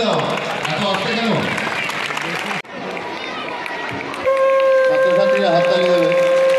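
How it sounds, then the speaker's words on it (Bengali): Students clap loudly at a high school ceremony unveiling a bust of the school's land donor, a dense, steady crowd applause that dips briefly and then continues with a steady electronic tone sounding over it. "জোরে হাততালি দাও"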